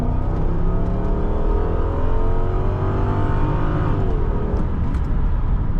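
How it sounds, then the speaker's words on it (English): The engine of a 2005 Ford Thunderbird revs and accelerates loudly from inside the car at night, the pitch climbing through the gears in a continuous, throaty roar. "That sounds so good. Very nice sounding car."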